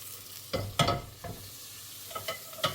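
Butter sizzles in a hot pan with beef tripe, with soft frying crackle and several clattering stirs of a utensil against the pan at close range.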